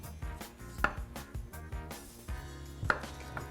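A kitchen knife slices the skin off a squash, a series of crisp cuts and scrapes at an uneven rhythm, with a couple of sharper knocks against the board, close and alone.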